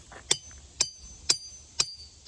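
A hammer striking a ringing rock at Ringing Rocks Park in Pottsgrove, Pennsylvania: five evenly spaced sharp blows, each a bright metallic ping with a short ringing tone, close and clear.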